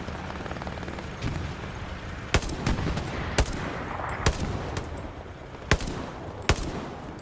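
Gunfire in the Hell Let Loose battle on Utah Beach, with sharp shots cracking at irregular intervals over a constant rumble of distant combat.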